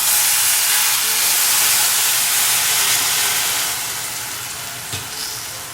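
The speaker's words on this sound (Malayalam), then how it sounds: "ഇതിലോട്ട് പുളിവെള്ളം ഒഴിച്ചിട്ട്" Tamarind water hitting a hot sambar pan sets off a loud, steady steaming sizzle that hisses continuously and slowly fades toward the end, with a small clink near the finish.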